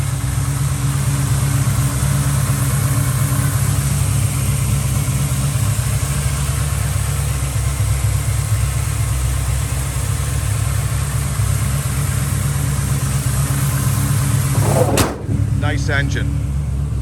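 Steady engine idle from a 1986 Chevrolet Silverado C/K 10 with upgraded headers, a continuous low rumble held close throughout, ending in a short clunk near the end.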